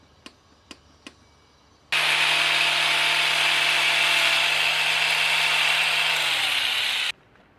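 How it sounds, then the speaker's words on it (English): A power tool grinds down a Kawasaki ZX14R seat cowl in one loud, steady burst lasting about five seconds, preceded by three sharp clicks and ending with the motor winding down. "Let's grind it off a bit."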